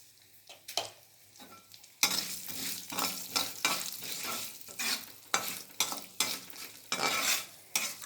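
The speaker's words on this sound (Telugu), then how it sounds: "ఇప్పుడైతే మనము పోపు దినుసులు వేసుకుందాము" Tempering spices frying in oil for pongal, quiet at first with a few stirs, then a loud crackling sizzle with repeated spatula scrapes and clinks against the pan.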